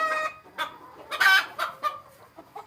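Desi laying hens cluck on a poultry farm in the morning, a close, lively run of irregular clucks and squawky bursts with short pauses between them, with no talk.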